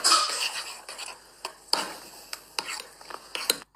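A spoon scrapes and clinks against a pot while arrabbiata pasta is stirred, a series of sharp metallic knocks and scrapes at an uneven rhythm, close and fairly loud.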